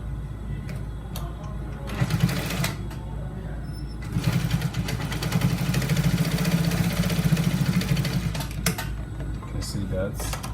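Sewing machine stitching trouser fabric, a close mechanical whir that runs in bursts and speeds up mid-way, with people talking over it.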